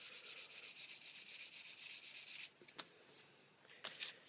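Fine 600-grit sandpaper rubbed in steady vertical strokes around a metal ferrule, a quick rhythmic scratching for about two and a half seconds, then a few scattered rubs and taps, close up and alone.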